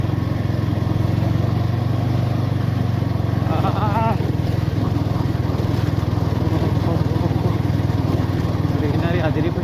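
Motorbike riding off-road on a rough track out to a green viewpoint, its engine droning steadily and close throughout, with someone talking over it.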